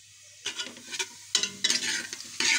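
Cumin seeds frying in hot oil give a close, bright crackling sizzle that starts abruptly and continues in uneven bursts, alternating with moments of quiet, with no voices.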